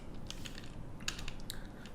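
Typing on a computer keyboard while entering a help command in Python, a few light, scattered key clicks over a low steady hum, fairly quiet and with no voice.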